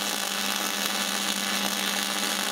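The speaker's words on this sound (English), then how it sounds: "I'm going to weld these two together" Steady, dense buzzing crackle of a welder joining mini bike jack shaft parts, continuous and close with a faint low hum beneath, no talk.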